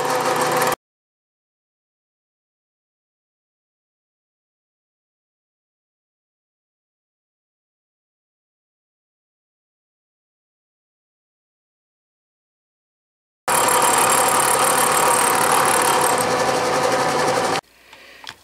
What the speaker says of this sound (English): just a few thousandths to be removed with the fly cutter